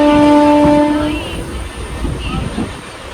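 A passenger train in Kerala, near Kottayam, sounds a loud horn close by. The horn fades into the steady rumble and rattle of the moving train.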